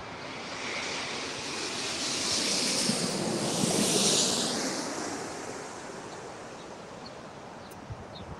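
An airliner lands on runway 25 left at LAX, a broad roaring rush swelling to a peak midway then fading, heard from a distance with wind noise and no voices.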